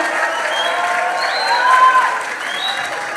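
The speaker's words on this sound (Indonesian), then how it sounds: "Beri tepuk tangan yang meriah untuk kita semua." Sustained audience applause with crowd cheering at a national youth dialogue event in Indonesia, steady and dense throughout.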